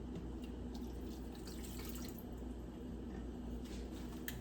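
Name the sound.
water being poured into a pot for Spanish rice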